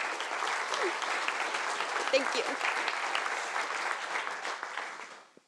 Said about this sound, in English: I think we owe each other a round of applause for the gift of Summit.